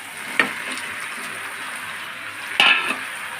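Pieces of duck meat fry in a hot kadai with a steady, close sizzle, broken by two louder clanks of a utensil scraping and stirring the pan.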